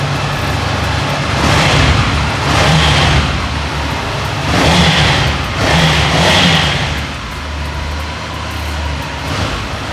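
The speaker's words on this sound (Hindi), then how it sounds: "आप क्लच दबाओगे, आप इस बटन को दबाओगे और बाइक स्टार्ट हो गई।" A used superbike, shown among Triumph and Ducati machines at a Delhi dealer, has its engine running loudly with several rising revs and bursts of throttle over a steady rumble, with no talk.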